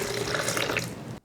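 A cup of water poured into the mix for raspberry lime-aid, a steady splashing stream running for about a second before cutting off abruptly, fairly close, no talking.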